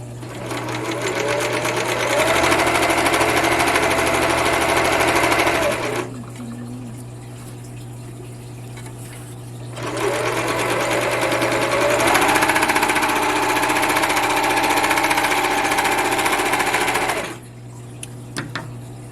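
A Toyota 6600 serger stitches in two long bursts of steady, rapid mechanical whirring, near and loud, with a quieter idle pause between runs and a soft hum beneath.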